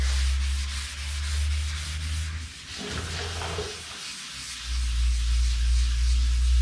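A car body being sanded, 320 grit dry then 400 wet, with long steady rubbing strokes close by under a low continuous hum that drops out briefly midway.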